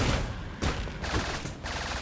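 Missiles firing in the Trailmakers video game, a quick series of sharp bursts and whooshing blasts over about two seconds, fairly faint overall.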